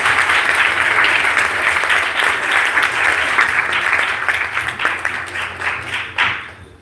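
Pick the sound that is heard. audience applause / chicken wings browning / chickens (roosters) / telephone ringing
audience applause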